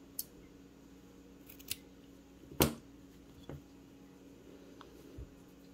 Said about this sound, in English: after your strands are all on there, you can go ahead and cut them shorter